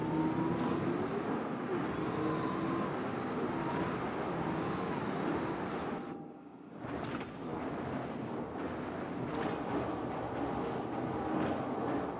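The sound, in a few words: ground vehicle driving onto ship pad in Star Citizen video game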